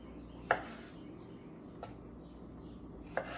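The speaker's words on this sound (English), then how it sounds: "We're going to take tomatoes and cut them in sixths" A kitchen knife slices through washed tomatoes on a board, cutting them into sixths: three sharp, isolated cuts spaced a second or more apart against a quiet room.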